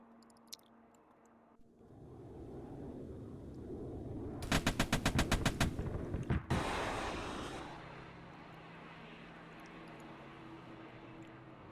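Video game gunfire crackles as a rapid burst of automatic shots, loud and close, followed by a rushing wash of noise, then quieter ambience.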